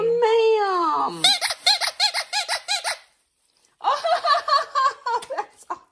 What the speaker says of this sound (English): Squeaky toy.